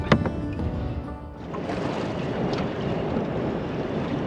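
Strong west wind, about 40 km/h, buffets the microphone on a cold river while fishing from a boat, a steady loud rumble with water wash and no talk.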